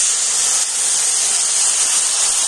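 Water splashes into frying spices in a pan (cumin and coriander powder with ginger-garlic paste), giving a loud, steady hiss of steam and spitting that runs unbroken the whole time, close up and with no talking.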